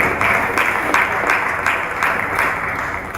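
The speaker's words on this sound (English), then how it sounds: "A round of applause for him to welcome." Sustained audience applause fills a university international week conference session at UNILAG, with a steady wash of many hands clapping that stays fairly loud and even from start to finish.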